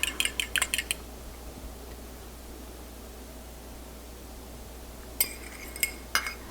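One large beaten egg for meatloaf is stirred in a bowl, giving quick clinking taps of a utensil at the start and again near the end, close and crisp over steady background hiss.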